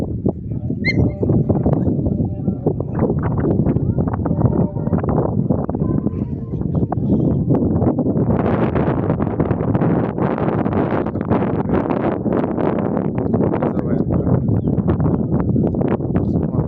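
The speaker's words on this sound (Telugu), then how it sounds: "గాలి చాలా బాగుంది." Steady outdoor wind in open hills near a dam rushes and buffets across the whole stretch, loud and close, with occasional faint background sounds mixed in.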